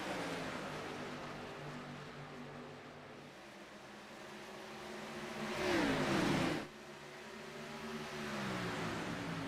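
Race cars accelerate away at the green flag start at Charlotte. A steady engine drone rises into a loud swelling whine as a car passes close, then cuts off abruptly and settles back into background engine hum.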